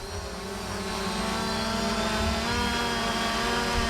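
A Fimi X8 drone flying outdoors in wind near Mount Salak, giving a steady, continuous rotor buzz and whir with wind rumble underneath, loud and unbroken throughout.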